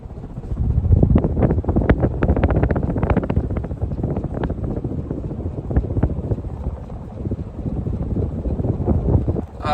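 A Hunter Type 52 ceiling fan runs at speed, its strong airflow producing a loud, steady, wind-like buffeting rumble close by, with no talking.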